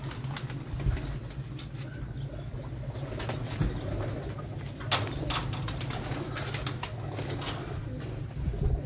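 A breeder's flock of pigeons coos in low, continuous murmurs nearby, with scattered clicks and light wing flutters throughout.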